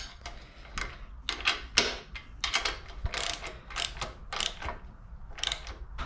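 A hand ratchet wrench ratchets in quick bursts of close, loud metallic clicks with short pauses while fitting a pony truck strike plate on a 7.25-inch gauge steam locomotive build.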